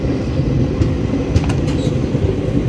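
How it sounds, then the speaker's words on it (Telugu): A train pulling in at platform 4 of Dharmavaram railway station, a steady loud rumble of railcars with faint brief squeaks, heard close and continuous without talk. "మన ట్రైన్ వచ్చేసి ప్లాట్ఫామ్ నెంబర్ 4 పైకి వచ్చింది."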